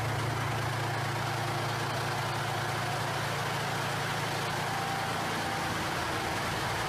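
A Continental AVDS 1790 2C series diesel engine runs at a steady idle. The low, even drone holds constant for about seven seconds, with no voices over it.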